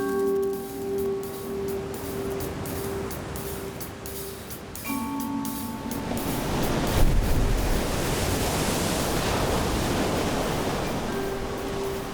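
Ocean surf breaks on the Atacama Desert coast of Chile as a steady, broad wash that swells into a louder surge midway and stays full, with a faint tonal hum beneath at the start and end.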